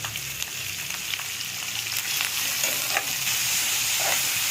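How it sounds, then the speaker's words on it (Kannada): Onions for a capsicum gravy frying in a pan, a steady sizzle with occasional stirring scrapes and small crackles, close and continuous with no talk. "ಈರುಳ್ಳಿ ಸ್ವಲ್ಪ ಚೆನ್ನಾಗಿ ಫ್ರೈ ಮಾಡ್ಕೊಳ್ಳೋಣ"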